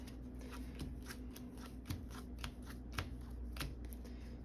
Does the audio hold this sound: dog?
no